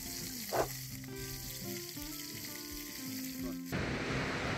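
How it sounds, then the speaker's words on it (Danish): Steaks sizzle and fry outdoors beside a camper near a calm lake, a steady close-up crackle with a brief louder spatter early and a shift in texture near the end. "Men Ken, han har chance med at stege bøfferne."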